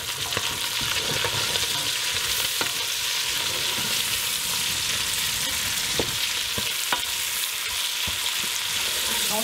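Onion frying in a pan for stewed cauliflower with tomatoes and bacon, a loud, dense, continuous sizzle close up with a few faint knocks of a utensil.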